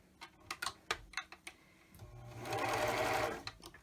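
A sewing machine stitches dress fabric close by, starting with a few ticking clicks and then settling into a steady, humming run of stitching for about a second before stopping.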